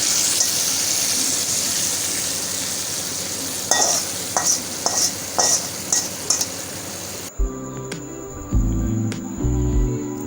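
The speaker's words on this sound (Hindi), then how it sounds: "गोल लाल मिर्चें डालेंगे छोटी वाली, और इसे फ्राई करके कढ़ी के ऊपर ही तड़का लगा देंगे।" Hot oil sizzling as small whole round red chillies fry for a tempering over kadhi pakora, with a few stirring clinks, then the texture changes near the end.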